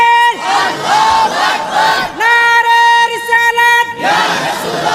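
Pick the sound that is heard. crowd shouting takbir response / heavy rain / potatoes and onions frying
crowd shouting takbir response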